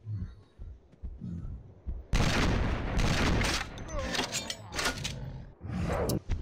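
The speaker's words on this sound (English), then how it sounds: "I don't know if it's because I'm shooting too early with the Wrecker or what" Shotgun blasts in the video game Carnivores Genesis erupt as a run of loud, booming shots after a quieter opening of low rumble and faint talk, with several sharp reports clustered close together.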